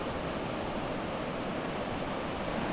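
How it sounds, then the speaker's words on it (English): A river rapid of class 3 to class 4 whitewater rushing steadily in the wilderness, a broad, continuous roar of churning water with no voices over it. "we could hear this rapid coming for quite a while"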